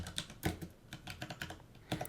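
Quick bursts of keystrokes on a computer keyboard while an email body is typed, close and clear clicks in uneven clusters with short pauses, no voices.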